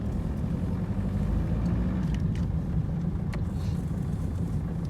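An old diesel engine in a Ford Fiesta or Hyundai Getz runs noisily, a steady low rumble that stays loud and continuous throughout with no voices.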